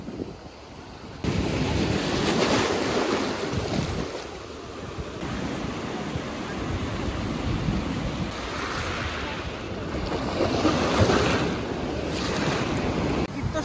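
Ocean waves on an empty beach at sunset: continuous broad surf wash with rolling swells, heavy wind buffeting the microphone after a brief quieter opening, and no voices.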